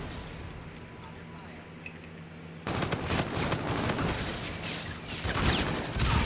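Rapid, dense gunfire in Call of Duty Infinite Warfare begins abruptly partway through and rattles on continuously to the end, loud and close, following a quieter stretch of game ambience.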